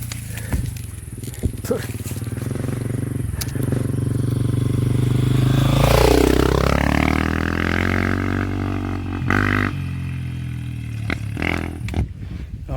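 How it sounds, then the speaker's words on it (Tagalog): A motorcycle approaches and passes close by on a mountain trail, its engine note rising and then falling as it goes past, with people talking nearby. "motor."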